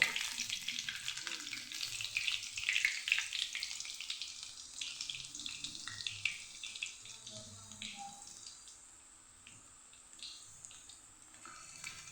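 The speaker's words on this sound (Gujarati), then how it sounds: "લીલા મરચાંને પણ તળી લેવાના એકદમ સરસ ક્રિસ્પી થાય ત્યાં સુધી એને તળવાના" Steady, bright sizzling of green chillies deep-frying in hot oil for puffed rice chevdo, loud at first and gradually softening, with faint clinks and no talking.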